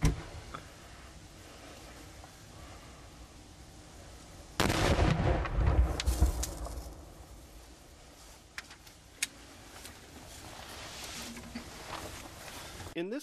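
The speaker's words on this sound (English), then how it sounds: "PyroMaster LLC rack, 5-inch purple flash peony, and a 5-inch polyethylene tube, 4-inch wood plug in the bottom" A 5-inch purple flash peony shell fires from a 5-inch polyethylene mortar tube with a wood plug in a rack: one sharp, loud launch thump with a burst of crackling debris, then scattered pops and a faint tail as the tube fails.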